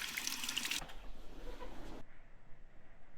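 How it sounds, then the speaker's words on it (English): A kitchen tap runs as hands are washed before frying frozen hash browns. The flow starts as a bright, close gush, then turns softer and duller for about a second before shutting off. "You're going to want to wash your hands."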